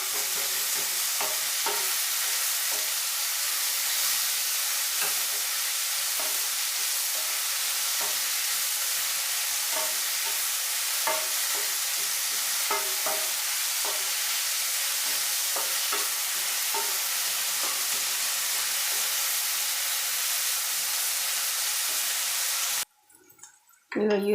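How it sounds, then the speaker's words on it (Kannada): Sliced onions frying in oil in a pan with a little salt, a steady bright sizzle throughout, broken by soft repeated scrapes of stirring, ending in a brief pause and clatter. "ಈಗ ಈರುಳ್ಳಿ ಮುಕ್ಕಾಲು ಭಾಗದಷ್ಟು ಫ್ರೈ ಆಗಿದೆ"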